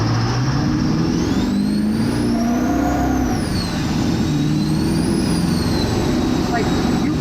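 An 800-horsepower 1958 Chevrolet Apache Stealth truck accelerates hard, its engine roaring loud and close with rising and falling pitch and a whining turbo sweeping above it. The roar stays constant throughout.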